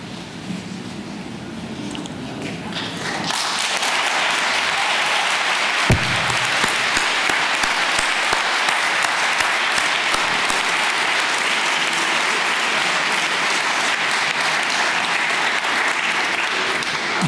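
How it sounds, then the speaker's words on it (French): At the Prix de la laïcité 2023 ceremony, a hall audience applauds Elisabeth and Robert Badinter. Low room murmur gives way after about three seconds to loud, sustained clapping that holds steady to the end. "vous entendez les applaudissements qui vous sont réservés"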